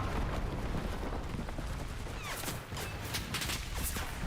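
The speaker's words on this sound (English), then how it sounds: "the massive rocket payload launcher artillery things" A barrage of rocket artillery launchers in the WWII shooter Enlisted, a dense continuous roar of blasts and whooshing rockets, with sharper bursts crowding in toward the end.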